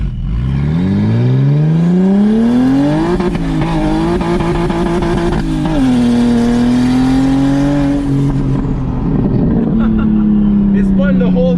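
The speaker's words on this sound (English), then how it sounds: "So just come off the clutch smooth and floor it." An 800 hp big-turbo BMW 335i launches hard from a smooth clutch release with the wheels spinning, its loud engine note climbing steadily through the gear before easing back near the end.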